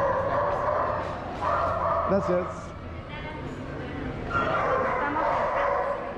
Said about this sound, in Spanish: ahí están los perritos. Un poquito estresadito, los perritos siento.